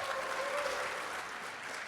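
An audience applauds at a pitch competition event, a steady wash of clapping that stays even and moderately loud throughout, with no voices over it.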